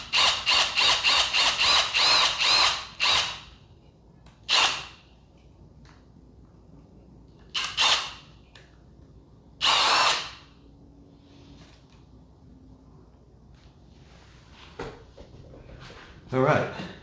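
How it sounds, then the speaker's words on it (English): Power drill boring slowly into a mounting surface for a Kaabo Wolf King electric scooter fingerprint reader: a long whining run at the start, then several short separate bursts, with quiet gaps and a little talk between. "you want to put it on your surface and kind of drill that real slow"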